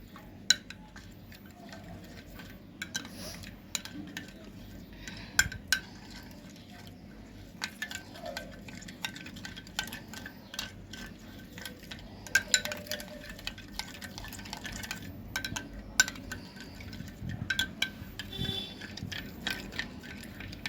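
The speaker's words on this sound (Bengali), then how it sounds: "ভালো করে ফেটিয়ে নিয়েছি।" A drink mixture with a little added water is whisked in a bowl for a summer refreshment, producing steady close clinks and light scraping of the whisk against the bowl, with no talking.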